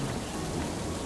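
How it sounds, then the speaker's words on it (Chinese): Rain beginning to fall, a soft, even hiss of drops on a surface that holds steady throughout, with no voices. "哦不，开始下雨"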